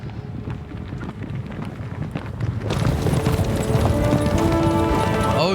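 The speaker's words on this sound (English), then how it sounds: "That sounds like a lot of horses." Many horses galloping together in the medieval game Kingdom Come Deliverance 2, a dense drumming of hooves under wind that swells louder and nearer halfway through and keeps rolling steadily to the end.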